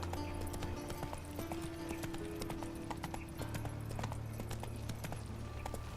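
Roach, a horse in The Witcher 3, gallops with fast, steady hoofbeats over a constant low background hum, fairly faint and without speech.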